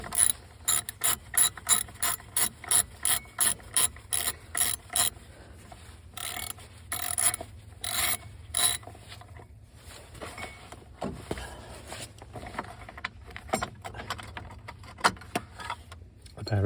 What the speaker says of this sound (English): First step is going to be to undo the T40 Torx 40 bolt down here that holds the battery tie down.